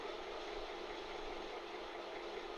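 An electric sewing machine stitches piping onto a princess-cut blouse, making a faint, steady, even whirring hum that carries on without a break.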